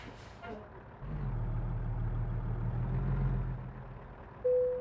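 A truck's diesel engine in American Truck Simulator rumbles low and steady as it rolls forward slowly, with a soft tone near the end.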